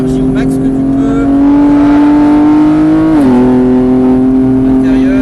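A race car on the Mireval circuit holds a loud, steady engine drone close by, its pitch climbing slowly, then dipping briefly with a shift before rising again, with an instructor's voice coaching over it.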